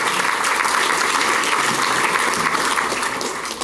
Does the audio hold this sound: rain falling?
no